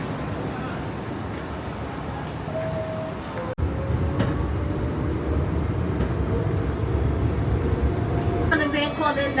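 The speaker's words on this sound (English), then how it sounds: "it's time to head back down to the steamy warmth of the subway." A New York City subway train rumbles steadily in a station or tunnel, with an abrupt shift in the noise partway through, and someone speaks over the continuous mechanical roar.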